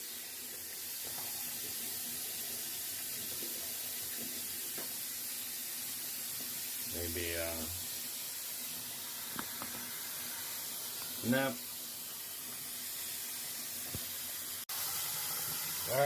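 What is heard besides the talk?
hot water running from faucet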